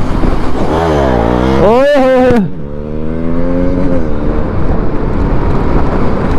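A KTM Duke 200 motorcycle races an Ola S1 Pro electric scooter; loud engine revs climb in pitch, peak in a close passing roar, then drop and settle into a steady drone, with a brief shout.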